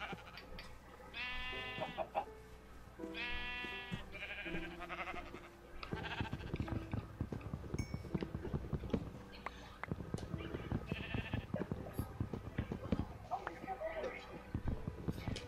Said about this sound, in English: There's a lot of sheep over there.